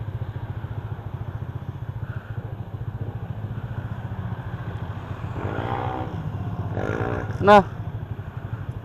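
A motorcycle engine hums steadily at low volume while riding, with a few clattering bumps and a sharp brief click near the end, and a voice speaks briefly.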